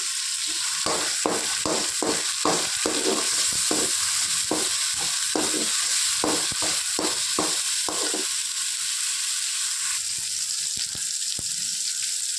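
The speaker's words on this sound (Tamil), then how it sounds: "வெங்காயம், இஞ்சி பூண்டு விழுது நல்லா ஃப்ரை ஆகிடுச்சு." Onion, ginger-garlic paste and coriander fry in a pan, with a steady close sizzle and a run of rhythmic scraping strokes through the middle, then a softer hiss.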